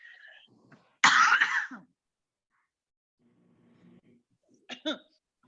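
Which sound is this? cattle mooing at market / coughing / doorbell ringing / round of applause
coughing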